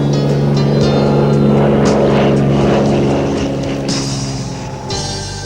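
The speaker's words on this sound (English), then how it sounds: "well enough to warrant a float plane fly past" A float plane flies past over Lake Taupo, its propeller engine droning loud and close. The pitch shifts as it passes, then the sound fades slightly toward the end, with no speech.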